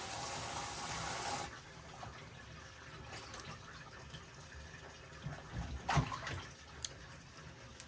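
A strong burst of running water from a kitchen tap for about a second and a half, then quieter splashing and clattering of dishes and a wok in a sink.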